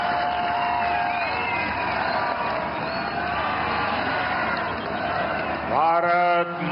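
A large audience at a public ceremony in Sikkim with the Prime Minister applauds in a steady, broad wash of clapping and crowd noise, with an amplified voice rising over it near the end.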